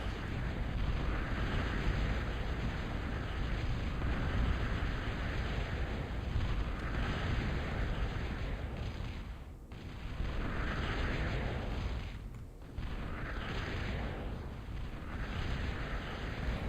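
Continuous rumbling barrage of artillery fire and explosions from a real-time strategy video game, dense and loud with a steady roar that briefly dips twice, no talking.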